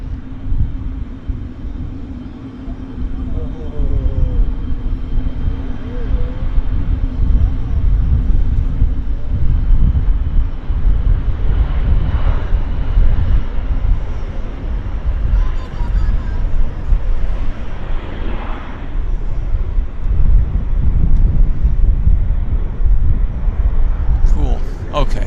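An Alaska Airlines Embraer jet at Vancouver Airport, its broad engine rumble steady and fairly loud throughout, swelling slightly near the end, with wind buffeting the microphone.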